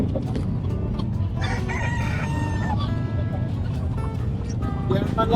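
A rooster at the Calumpit pet market, among chickens and pigeons for sale, crows in a long, loud, wavering call over dense market bustle and background clucking.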